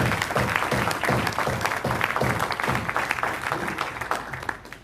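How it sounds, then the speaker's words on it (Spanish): A church congregation claps in rhythmic unison to praise the Lord, steady evenly spaced beats at moderate volume continuing throughout. "Le voy a coger las palmas al Señor"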